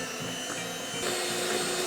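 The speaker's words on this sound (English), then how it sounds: "I'm gonna start by creaming some butter." A mixer runs steadily as it creams salted butter for frosting, a close, continuous whirring hum that rises slightly partway through, with no talk.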